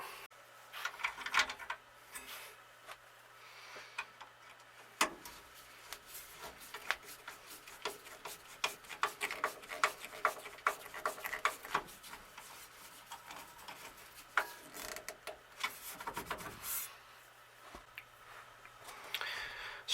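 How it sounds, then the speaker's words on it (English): A Dorman canceling cam for a 1966 Chevy C20 is sanded by hand, with irregular scratchy rasping strokes and small ticks, fairly quiet and close, interrupted by brief pauses. "so I'm going to have to sand that down real quick."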